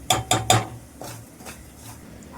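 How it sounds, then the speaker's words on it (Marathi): Metal spoon knocks three times against a pan holding semolina roasting in ghee, then gives way to softer scraping and stirring, close and fairly quiet, with no talk. "म्हणून आपण तुपात हे परतून घ्यायचे दोन ते तीन मिनटं तरी परतून घ्यायचं"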